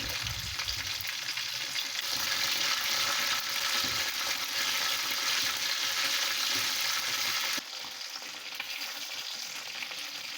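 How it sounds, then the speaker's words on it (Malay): Steady, dense sizzling and crackling of chicken frying in hot oil, continuous and close, with a slight drop in intensity near the end. No voices. "kita goreng ayam"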